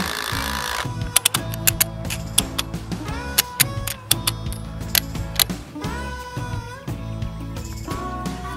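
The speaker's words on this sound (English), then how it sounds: "Now we're just gonna put up these Simpson strong ties and bolt them all in." Installing Simpson strong-tie brackets with bolts onto heavy beams at a pole barn build: sharp metallic taps and clacks at irregular intervals over a steady mechanical hum, fairly close.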